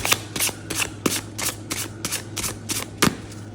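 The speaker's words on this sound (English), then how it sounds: "this is the best way to shuffle because I can't read this as I'm shuffling" Tarot cards are shuffled in quick repeated riffles, about ten crisp papery bursts in steady rhythm, close up with no talking.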